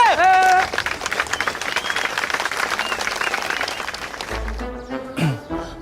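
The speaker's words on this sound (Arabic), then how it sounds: "تشجيع" A crowd at a game between blue and white teams cheers and claps loudly, a sustained roar of applause with whistles and shouts that fades and breaks into scattered voices near the end.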